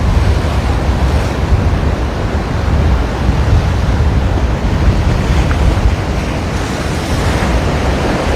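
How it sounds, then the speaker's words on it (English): Loud, constant wind buffets the microphone over the rushing roar of ocean surf at Leahi Park, at the base of Diamond Head near Waikiki, with no break in the noise. "I think you kind of want to hear the wind a little bit."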